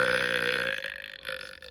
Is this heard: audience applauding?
no